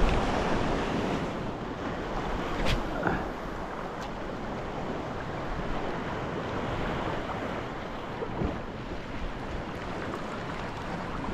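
Choppy sea surf washing against a rocky shore, a continuous broadband wash with wind buffeting the microphone and a few brief splashes, no clear speech.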